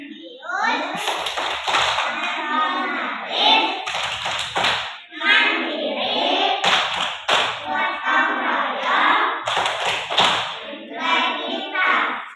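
A first-grade class of children performs tepuk semangat, a rhythmic spirit-clapping chant, with sharp claps in patterned bursts alternating with their shouted chanted words, close and lively in a classroom.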